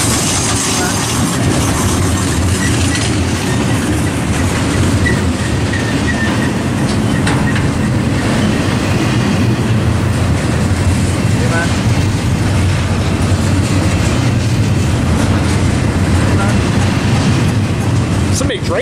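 BNSF and UP freight trains pass at Tehachapi, a loud continuous rumble of railcars with rhythmic wheel clatter and occasional squeal, close by, with people talking faintly underneath.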